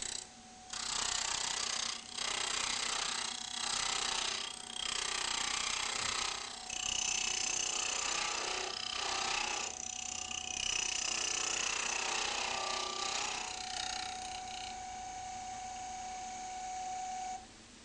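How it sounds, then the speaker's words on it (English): A wood lathe spins off-center wood mounted on a Robert Sorby eccentric chuck, giving a fairly quiet, steady mechanical whir with rhythmic rattling pulses repeating through the run before it softens near the end. "Slow the lathe down further as the wood is now more off-center."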